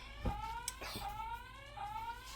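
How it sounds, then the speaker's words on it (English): A kitchen alarm sounds while potatoes are blanched, faint repeated electronic beeps rising over a noisy background with a few knocks and clatters. "there goes the alarm"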